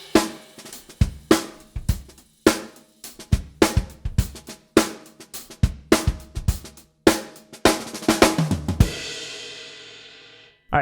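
A drum fill played on a drum kit: a steady run of sharp, loud hits with cymbal crashes, building into a busier flurry near the end before a ringing cymbal decays alone.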